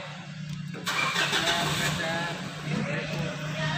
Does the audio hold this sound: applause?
no